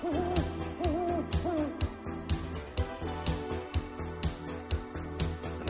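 An owl's hoots, a few wavering calls near the start over steady, rhythmic background music with repeated percussive beats, in a spooky haunted-house scene.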